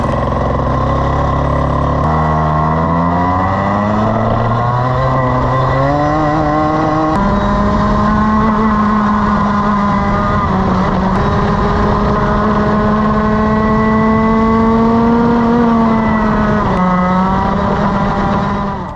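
Loud Tony Kart Senior Rotax Max racing kart engine running on track, its high, buzzy two-stroke note rising through the revs, then holding a steady pitch with slight dips for about nineteen seconds, close up and alone without talk.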